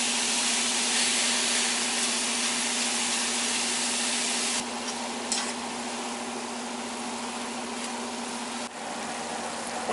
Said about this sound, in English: Just going to kind of sear the beef a little bit before I put it in the pan.